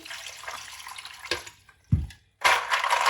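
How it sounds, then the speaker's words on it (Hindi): Half a kilo of walnuts is washed under running water in a sink. The tap water splashes in uneven bursts, broken by short pauses and a dull knock as the nuts are handled, all close up with no talking. "मैंने हाफ केजी अखरोट लिए हैं। इनको हम अच्छी तरह धो लेंगे।"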